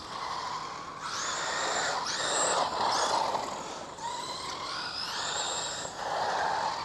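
A Traxxas Slash Mudboss RC car runs a pace lap on a track, its electric motor whining up and down in pitch with each burst of throttle, moderately loud with faint background noise.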